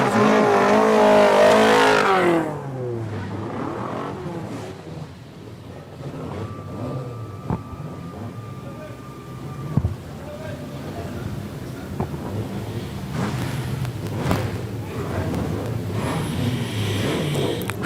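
2.1 modified stock cars race around a circuit in a Border Stock Car Association regional meeting, engines roaring loudly at first, then a steady drone of passing cars and crowd noise continues beneath announcer speech throughout.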